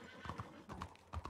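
Horse hooves clip-clop in a ranch roleplay video game, a few faint, evenly spaced hoofbeats close together.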